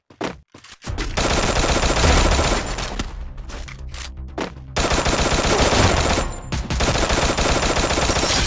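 Rapid automatic gunfire bursts from the battle royale game Free Fire, loud and dense with brief gaps, a sustained volley after a short pause midway.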